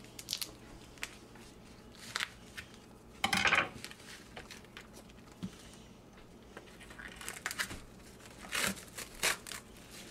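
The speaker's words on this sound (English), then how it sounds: "Will be to open the pork chops" Plastic packaging of pork chops being pulled open, with scattered crinkles, rustles and a louder tearing burst partway through, close up in a quiet kitchen.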